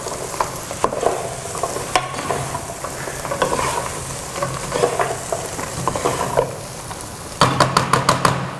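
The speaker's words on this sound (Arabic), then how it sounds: "خليها تتقلى بشوي مع الزيوت، مع الزيت والبصل والثوم" Green beans frying in oil with onion and garlic in a pan, a continuous close sizzle with light stirring scrapes and a few sharp clinks near the end.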